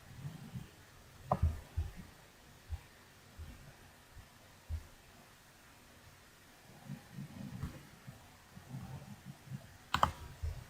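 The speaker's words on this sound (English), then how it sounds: "So I'm just going to type in business." Sparse clicks of keys on a computer keyboard, quiet and close, arriving in short irregular bursts with pauses between them.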